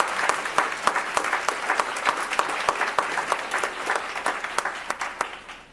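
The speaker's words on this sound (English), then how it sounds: "Why don't we give our panelists a round of applause?" Audience at a CF Foundation conference session applauding the panelists, steady dense clapping with sharper individual claps throughout, tapering off at the end.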